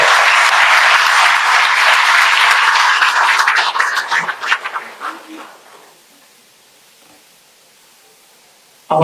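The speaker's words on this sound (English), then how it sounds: "Please give a big round of applause." An audience at the inauguration ceremony of a national ophthalmology conference bursts into loud, dense applause that carries on for several seconds before thinning out and dying away into near silence.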